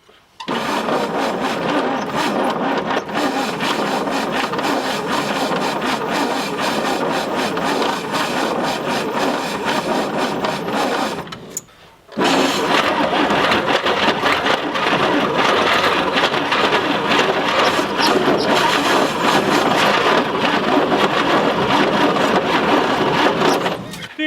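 A 1959 Chevrolet Apache truck engine, left sitting for 40 years, is cranked with fuel, a loud continuous churning roar that stops briefly midway and then resumes just as strongly.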